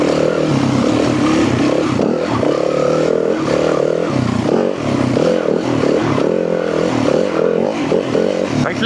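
A 450 dirt bike ridden on a cross-country practice track with the throttle open, a loud continuous engine drone that rises and falls slightly as it pulls, heard up close with some rattling and no talk.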